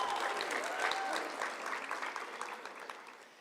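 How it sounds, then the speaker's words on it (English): An audience at a senior awards ceremony applauds a recipient, a fairly soft but steady patter of clapping that gradually thins toward the end. "So ladies and gentlemen, let's give her a round of applause"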